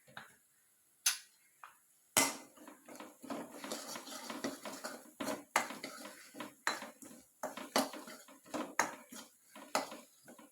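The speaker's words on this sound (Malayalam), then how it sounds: "നല്ലപോലെ ഒന്ന് വഴറ്റി വെച്ച്" Spoon scraping and clinking against a pan while masala with vegetable masala powder, coriander powder and chilli powder is sautéed, a steady run of close, crisp metallic taps and stirs in a quiet home kitchen.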